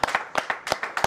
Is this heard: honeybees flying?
no